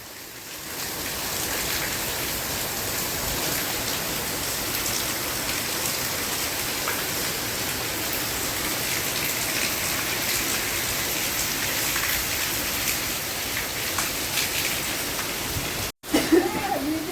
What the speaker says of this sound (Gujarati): ખેતરમાં સબસબિયા થવા માંડ્યા હે બે નદી પવન ને વરસાદ